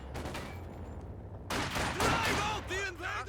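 Machine gun fire and scattered rifle shots in a Company of Heroes 2 3v3 match on the Rhine, rattling in dense bursts that grow louder after a brief lull, under a commentator talking.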